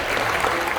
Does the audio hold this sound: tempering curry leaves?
no